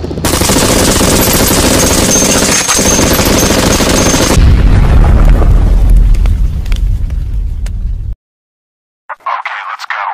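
Gunfire and explosions roar in a video game: dense continuous firing with blasts gives way to a deep rumbling boom, then silence before a short burst returns, with no voices.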